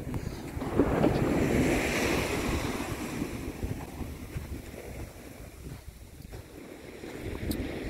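Ocean surf rolling onto the shore at the southern tip near Rockport, Massachusetts, a steady broadband wash with wind noise on the microphone, swelling loudest early on and then easing into a continuous roar.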